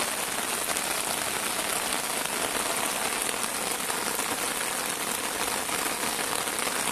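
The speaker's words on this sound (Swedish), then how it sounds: "Oj, vad det regnar." Steady rain patters continuously on a surface, a dense even hiss with no voices.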